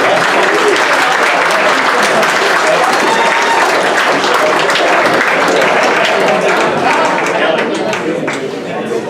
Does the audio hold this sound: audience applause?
yes